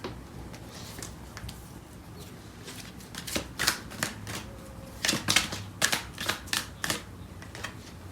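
Tarot cards shuffled by hand to draw clarifiers, soft riffling and snapping bursts building from quiet rustles into a quick run of crisp, close flutters.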